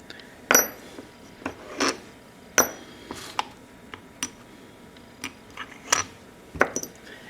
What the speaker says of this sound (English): I've got the bolts loose here. Taking these out.